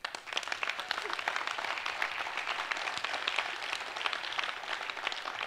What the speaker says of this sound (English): I want yourself actually to give yourself a really, really big applaud right now for being here